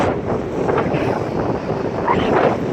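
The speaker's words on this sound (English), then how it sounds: "It's really cold and windy and still raining" Steady, loud wind roars across the microphone on a cold beach in Ireland, with a constant rushing hiss mixed with falling rain, continuous throughout.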